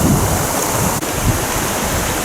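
Rushing floodwater of a swollen river surging steadily around a person wading waist-deep at dusk, a loud continuous broadband wash with no talk.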